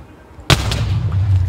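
A single sharp firework bang goes off in the game Minecraft, followed by a sustained low rumbling tail that lingers to the end.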